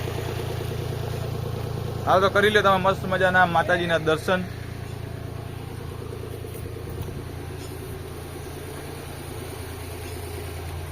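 A tractor engine idles steadily nearby after sitting unused for eight months, a low continuous rumble running the whole time, with a person talking briefly over it near the start.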